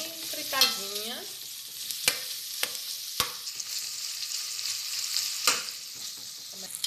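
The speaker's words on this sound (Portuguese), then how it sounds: "Agora vamos fritar a linguiça." Linguiça sausage frying in a pan, a steady close sizzle with occasional sharp stirring scrapes and clicks against the pan, no voices.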